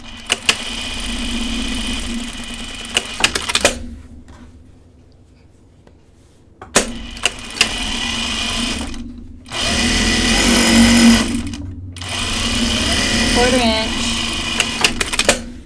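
A sewing machine stitching fabric in a home sewing session, running in several steady bursts separated by short pauses, fairly close and loud, with a person talking in between.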